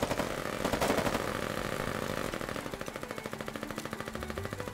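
Rapid submachine gun fire in the video game Foxhole, a fast evenly spaced rattle of shots that carries on for several seconds, close and loud, with no talk.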